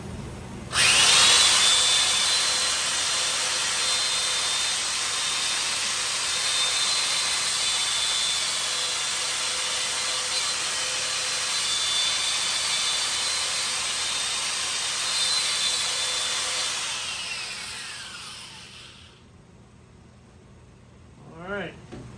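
A sanding disc on a lathe grinds against a red cedar bowl in a loud, sustained whirring rasp for about seventeen seconds, then winds down and stops.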